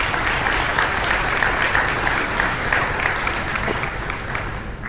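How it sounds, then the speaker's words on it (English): Sustained, dense applause from a large audience fills a school academic banquet honoring its top ten students, a loud, steady roar of many hands clapping at once from start to finish. "give all those a big round of applause"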